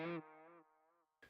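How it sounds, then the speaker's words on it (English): Heavily processed Mark IV-style electric guitar tone through an Atomic Amplifire modeler with stock tape echo delay: a struck chord rings and repeats in fading stepped echoes, each repeat softer and darker, alone with no talk. "So let's go with the old tape echo."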